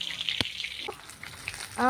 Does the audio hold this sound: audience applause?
no